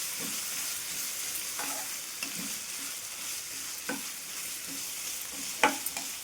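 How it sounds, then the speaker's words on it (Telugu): Grated carrot and raw mango chutney is stirred into a sizzling tempering in a pan, a soft steady hiss with faint scraping strokes and a few sharper clinks, quiet and close. "ఇప్పుడు దీనంతా పోపు పట్టుకునే విధంగా కలుపుకుందాం."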